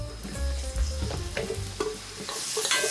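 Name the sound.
mushrooms frying in cooking oil over medium heat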